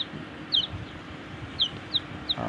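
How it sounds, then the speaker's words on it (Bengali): Native chicken chicks in an incubator, a few high thin peeps repeating at irregular intervals over a low background hum, close and fairly soft. "দেশি মুরগির বাচ্চা তো এই জন্য একটু কানাচে কুনাচে রয়েছে"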